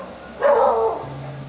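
A single short dog bark, close and clear, rising briefly over a low background hum.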